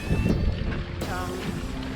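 Wind buffets the microphone in low, uneven gusts aboard a sailboat sailing from Port Macquarie to Trial Bay, with faint background tones from a vessel on the water.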